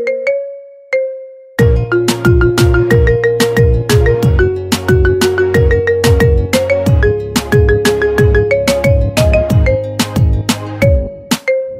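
A song played as a phone ringtone, a bright plucked melody with a steady bass pulse, opening with a few sparse notes and then looping loud and close, alone without voices, ending cleanly.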